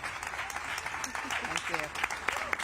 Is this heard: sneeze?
no